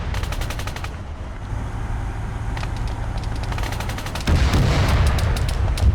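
Armored vehicles open fire in an Arma 3 combat operation, a dense, steady rattle of rapid shots under continuous battle noise that grows louder and heavier toward the end.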